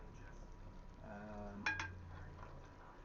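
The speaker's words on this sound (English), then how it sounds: "A nice stir, top to the bottom, bottom to the top." A spoon scrapes and clinks against a pot as lamb shank and neck potjie with vegetables is stirred, a few soft metallic knocks over a faint low background.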